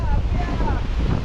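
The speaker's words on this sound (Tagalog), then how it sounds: "Tsaka malakas yung hangin." Strong wind buffets a boat on rough, high-wave seas, a steady loud roar of gusts and surf with heavy low rumble throughout.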